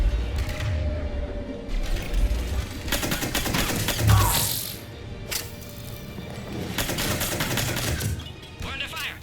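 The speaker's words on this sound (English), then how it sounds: "We're under fire." Gunfire during a firefight in Mass Effect 3, rattling bursts of automatic fire and heavy impacts with mechanical clanks, a loud blast in the middle, fairly close and continuous.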